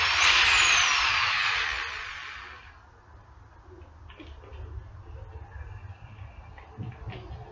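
A handheld power drill whines loudly for about two seconds and then winds down, leaving faint rustling and handling noises at a greenhouse build.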